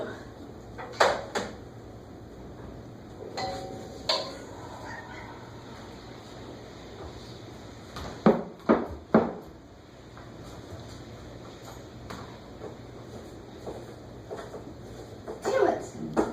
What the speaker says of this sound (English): Officer Parker, I don't seem to be able to get the door open